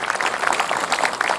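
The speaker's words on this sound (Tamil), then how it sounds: "குழந்தைக்கு பெரிய கைத்தட்டல் கொடுக்கலாங்க." Studio audience applauding for a child on a Tamil children's TV fun show, steady dense clapping throughout the short burst.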